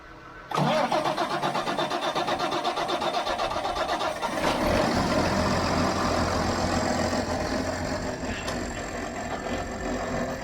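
An engine with a badly damaged intake and a running fuel pump cranks and sputters unevenly for a few seconds, then catches and settles into a loud, rough, steady running rumble that continues close by.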